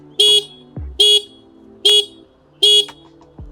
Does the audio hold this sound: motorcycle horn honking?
yes